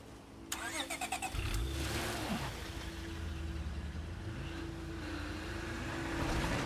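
A car engine in State of Decay 2 drives along at a steady, fairly loud hum, with a brief rev and a small rise and fall in pitch as the vehicle moves, and no talking over it.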